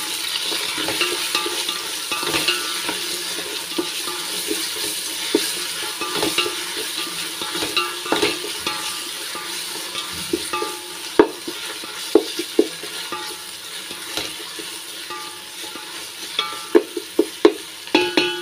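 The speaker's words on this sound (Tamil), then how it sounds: "வெங்காயம் நல்லா வதங்கட்டும்." Onions with green chillies and ginger-garlic paste sizzling steadily in a pan, with a spoon stirring and scraping and occasional sharp clinks of utensil against the metal, continuous and close with no talking.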